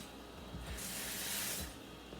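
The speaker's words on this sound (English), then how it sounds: "I'm gonna add a little bit more water." Water poured into a cooking pot on a stovetop, a steady splashing hiss that swells for about a second in the middle and then eases, close by with no talking.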